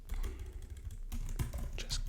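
Fast, uneven clatter of keys on a computer keyboard, close and steady, with brief pauses between bursts of keystrokes and no voices.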